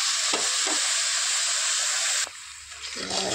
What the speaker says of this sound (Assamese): এনেকৈ মই লৰাই থাকিম চেনিটো গলি যোৱালৈ